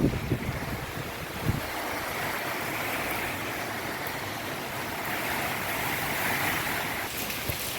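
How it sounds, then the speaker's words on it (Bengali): Cyclone Remal's wind and rain roar in an even, broadband rush, with steady buffeting noise and a few knocks near the start, with no voices. "চারিদিকে শুধু ভীষণ ঝড় বৃষ্টি।"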